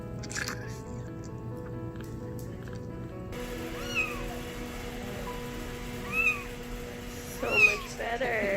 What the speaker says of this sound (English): While in his foster hero home, Zion was just like every other kitten.